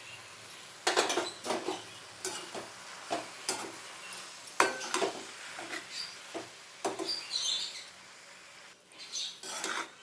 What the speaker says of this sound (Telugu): అడుగంటకుండా కలుపుకుందాం